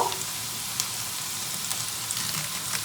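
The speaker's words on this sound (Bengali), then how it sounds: "পেঁয়াজ অনিয়ন গার্লিক লোক অ্যান্ড চিলি এটা ভাজা হতে হতে" Onion, garlic and chili frying in a pan give a steady, fairly loud hiss and crackle with small pops, heard up close and alone with no voices over it.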